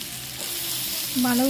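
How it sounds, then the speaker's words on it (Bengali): Vegetables frying in a pan for chowmein give off a steady, close hiss that swells louder near the end as fresh contact with the hot pan brings a sharper sizzle. "একটু ভালো করে ভেজে নেবো"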